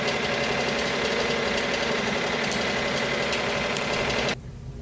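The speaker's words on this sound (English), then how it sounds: "the machine is going to go ahead and sew a mark stitch to let us place the material for our bunnies" An embroidery machine sews placement stitches to mark where fabric goes for a large 8 by 10 bunny design, giving a steady close mechanical whir and rapid needle chatter that stops abruptly near the end.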